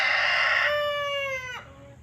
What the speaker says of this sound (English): That rooster likes to crow when I'm on the video here.